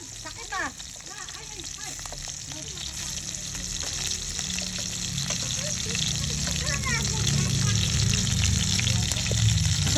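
Salmon fries in butter alongside French beans in a home kitchen, giving a steady, close sizzle that slowly grows louder, with a faint trickle and occasional stirring. Brief quiet speech sits early under the frying.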